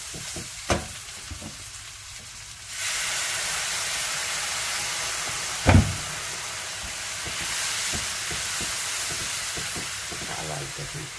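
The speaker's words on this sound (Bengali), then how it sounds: "এখন এটাকে ভালো করে কষিয়ে নেব।" Spices and chickpea dal sautéing in a pan, a quiet start with a few clinks before a loud, steady broadband sizzle takes over, broken by one sharp utensil knock midway and light stirring scrapes near the end.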